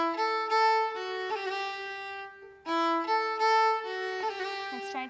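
A solo bowed fiddle plays a short Irish-style phrase, bright and close, with clear sustained notes and quick ornamented rolls, the phrase played twice with brief gaps between.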